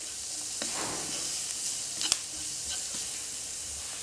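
Onion with a spoonful of Kashmiri chili powder frying gently over very low heat in a pan for red sauce pasta, a steady soft sizzle with occasional light stirring scrapes and one sharper clink.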